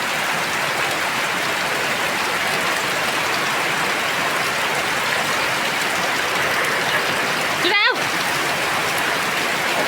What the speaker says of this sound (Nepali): आज हाम्रो गाउँतिर कस्तो ठुलो पानी परिरहेको छ।